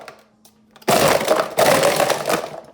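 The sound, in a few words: Ninja blender pulsing a chocolate banana peanut butter shake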